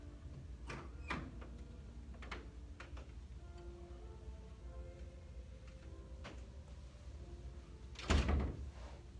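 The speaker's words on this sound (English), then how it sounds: "I'll close that door" Door being closed in a room, with a few soft clicks and knocks early on and a solid thud near the end, heard fairly close over a faint background hum.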